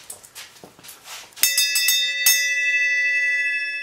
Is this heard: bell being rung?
yes